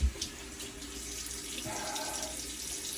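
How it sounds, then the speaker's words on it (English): A bathroom tap runs steadily into a sink while a man wets his face ahead of a slant-razor shave, a continuous close splashing stream with faint slaps of water in hands. "let me wet my face, y'all."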